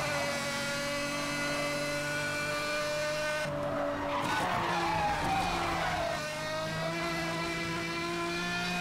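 High-revving race car engine in the racing game Need for Speed Hot Pursuit Remastered, a loud whining tone climbing steadily, with a gear shift and a burst of tire noise midway before the engine pitch rises again.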